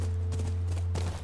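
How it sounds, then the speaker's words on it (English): Horse hooves clip-clopping in The Last of Us Remastered, a few quick thuds over a loud low steady hum from the game's ambience. "That's our horse."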